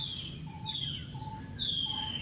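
Birds sing in hillside forest near a cave temple, repeated thin whistling calls and chirps at moderate distance over a steady soft ambient hiss.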